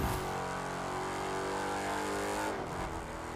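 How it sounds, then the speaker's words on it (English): A Chrysler 300 SRT8 limousine accelerates hard in the racing game The Crew 2, its engine roaring loudly and steadily with rising harmonic pitch, then a brief dip as it shifts. "let's do an acceleration run here"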